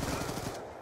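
Rapid automatic gunfire from a Call of Duty: Black Ops 2 multiplayer match, a dense burst of repeated shots that cuts off partway through.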